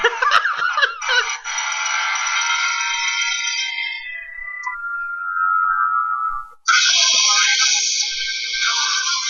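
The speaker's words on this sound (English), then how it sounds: "It's ringing." A mobile phone ringtone plays through a call, a bright electronic melody ringing loudly and alone, cutting off briefly before starting again near the end.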